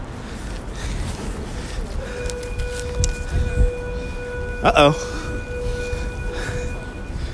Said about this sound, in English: That was the school bell.